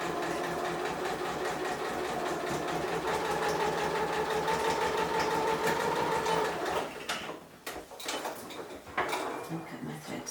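A sewing machine runs a reverse stitch through fabric, a steady close whirring hum lasting about seven seconds, then stops and gives way to scattered clicks and handling noises.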